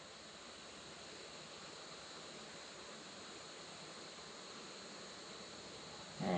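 Oil drains slowly from a Hydro Gear transmission on a Hustler Raptor SD mower into a catch tank, a steady, faint hiss with a soft trickle that continues unbroken, with no speech.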